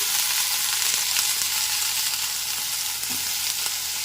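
Brinjal pieces drop into a hot frying pan with drumstick pieces already cooking, setting off a loud, steady hiss of sizzling oil with a few faint stirring scrapes, no talk.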